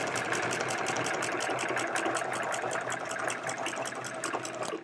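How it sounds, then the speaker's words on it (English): A sewing machine with a walking foot stitches through a hedgehog quilt in a fast, even run of needle strokes, a steady close mechanical chatter throughout with no voices. "I'm letting the walking foot do its job. Letting it pull me along."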